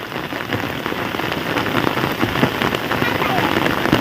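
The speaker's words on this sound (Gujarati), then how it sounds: "એવો વરસાદ છે હજી ચાલુ જ છે જો વધતો જાય" Heavy rain falls steadily on surfaces in a Gujarati village, a dense, loud, unbroken hiss with no pauses.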